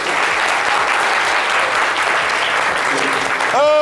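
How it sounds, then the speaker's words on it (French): Loud, dense applause from a large crowd for a band, continuous and steady, with a brief tonal squeal near the end. "Applaudissements s'il vous plaît pour le groupe."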